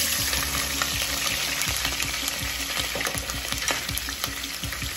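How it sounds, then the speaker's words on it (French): Onions fry in a pan for shrimp curry fried rice, a dense, loud, continuous sizzle and crackle heard up close with occasional utensil scrapes, no voices. "Là, je suis en train de frire les oignons."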